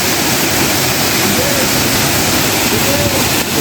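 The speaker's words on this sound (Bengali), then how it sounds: "এই হচ্ছে মুরগা মহাদেবের পিছনে ওয়াটারফলস" Waterfall pouring behind the Murga Mahadev temple in Keonjhar, Odisha, a loud steady broadband rush of falling water that fills the whole stretch without a break.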